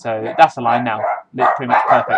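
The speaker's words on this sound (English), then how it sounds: "sorry about the dogs" Dogs barking in the background, a few yelps and barks mixed under someone talking close to the mic indoors.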